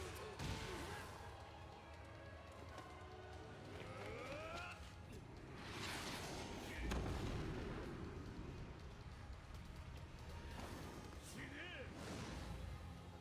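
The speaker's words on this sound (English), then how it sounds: "That was the most meager explosion from such a big missile." Blasts and booming impacts from a big missile strike in the fighting game Tekken 8, a dense rumbling burst that swells around the middle amid constant game effects, with voices talking throughout.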